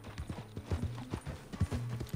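Horse hooves clip-clop in a quick, even rhythm in Red Dead Redemption 2, close and clear with no talk over them.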